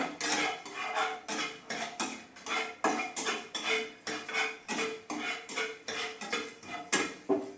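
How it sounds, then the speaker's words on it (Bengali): A utensil knocks and scrapes rhythmically against a pan while dried red chillies and fenugreek seeds are stirred in hot oil for chutney, a steady series of close metallic clacks roughly every half second. "তেলটা গরম হয়ে গেছে, দিয়ে দিলাম শুকনো লঙ্কাটা আর দিয়ে দিচ্ছি মেথি। এটা কয়েক সেকেন্ড আমি নেড়ে নেব।"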